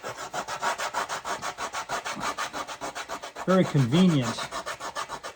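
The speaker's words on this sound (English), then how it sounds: "So those sandpaper blocks are going to come in very, very, very handy." A sandpaper block rubs back and forth on mandolin wood in a steady rhythmic rasp, close and loud, with a brief spoken remark partway through.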